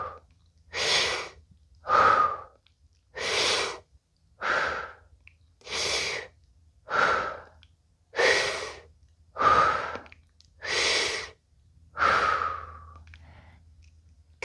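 Ten deep, even breaths in steady rhythm, each a loud airy exhale lasting about a second, taken during a squat-and-turn fascia exercise; no talking.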